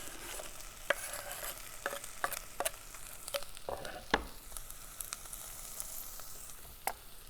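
Chopped celery sizzling and frying in a pot, with repeated scraping and stirring clicks from a spoon throughout, steady and close.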